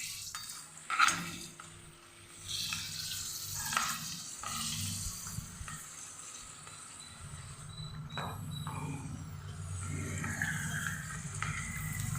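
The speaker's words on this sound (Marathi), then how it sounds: "हे पापड ना छान वाळून घेतले आपण तळून बघू आता" Dried nagli (ragi) papad dropped into hot oil, a steady bubbling sizzle of deep frying with faint clinks of a utensil, continuous and fairly quiet.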